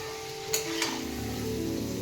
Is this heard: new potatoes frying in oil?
yes